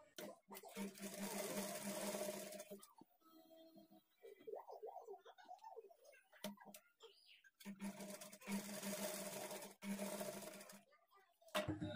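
Sewing machine stitching blouse pieces together, running in two loud sustained bursts at the start and end, with a quiet pause between filled by faint handling sounds.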